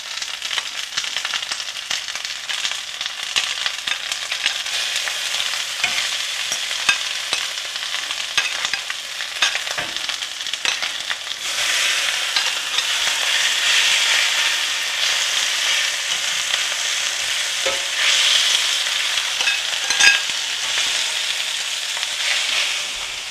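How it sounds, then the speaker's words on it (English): Onions sizzle steadily in a hot pan for fajitas, with scraping and stirring sounds throughout, close and continuous without speech. "We get that good sizzling going on."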